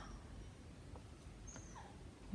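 A dog gives a faint, brief whimper, a thin high whine that slides downward, over quiet room background.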